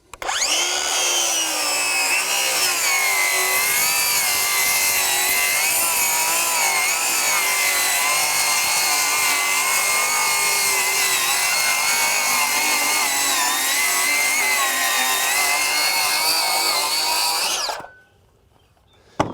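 A Craftsman V20 brushless 7-1/4 inch circular saw running on a 9 amp-hour battery makes one long, loud full cut through wet wood, with a whining, slightly bogging drone that stops abruptly at the end.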